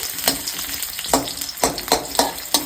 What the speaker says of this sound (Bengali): প্রথমে দিয়ে দেওয়া হলো কিন্তু পেঁয়াজটা ভালো মতন, এবার একটুখানি ভেজে নেওয়া হচ্ছে।